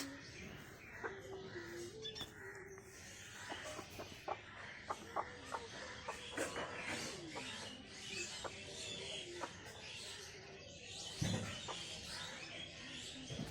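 Backyard hens, one with chicks nearby, clucking in short repeated bursts over a soft outdoor background, with scattered chirps and a louder squawk near the end.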